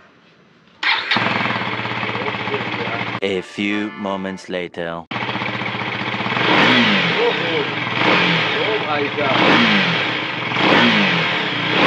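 A newly delivered motorcycle, in neutral, is cold started. After a short silence it roars into a loud idle, stutters briefly, then settles and revs repeatedly in rising surges, with someone talking over it.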